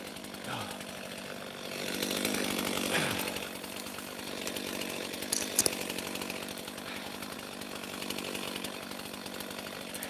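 A chainsaw cuts limb wood for firewood amid scrub brush, whining steadily at a moderate distance with a slight rise in load partway through, fairly faint and continuous.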